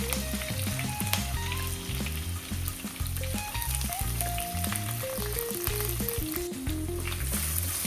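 Garlic, onion, ginger and green chili frying in oil with curry leaves for a river-fish curry, a continuous close sizzle with scattered stirring clinks and crackles, no voices, with a tonal hum underneath throughout.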